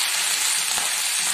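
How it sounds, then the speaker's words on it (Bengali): Onions and chili fry in a pan with a steady, close, dense sizzle that holds even across the short moment, with no talking. "একসাথে দিয়ে ভাজবেন পেঁয়াজ, সাথে লঙ্কা"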